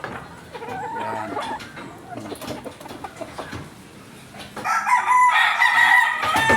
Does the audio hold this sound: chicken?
yes